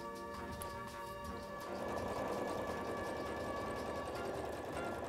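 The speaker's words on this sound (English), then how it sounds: "The machine quilting was so much fun using the walking foot to create straight lines." A sewing machine quilts straight lines with a walking foot, a faint, continuous mechanical whir and rapid needle chatter running steadily throughout.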